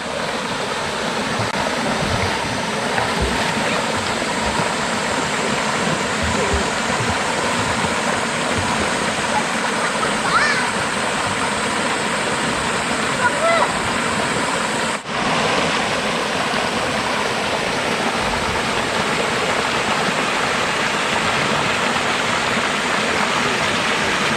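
Myeongseol waterfall on a summer mountain-valley hike, its steady broadband rush of falling water roaring close and continuous without a break.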